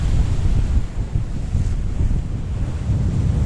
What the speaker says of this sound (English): The wind, well, that's pretty strong indeed.